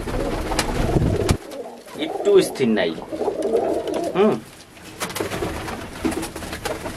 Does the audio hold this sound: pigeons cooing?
yes